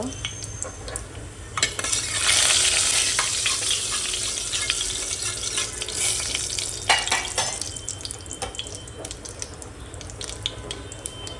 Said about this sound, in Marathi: आता ह्याच्यामध्ये आपण जिरं टाकूया 1 चम्मच, थोडंसं हिंग,